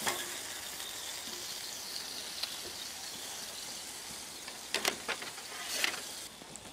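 Pork chops sizzling on a Blackstone griddle with a weight pressed on top: a steady, moderately loud hiss of frying fat, with a few sharper crackles and pops near the end.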